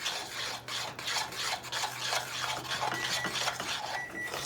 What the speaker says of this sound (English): I'm going to keep mixing it.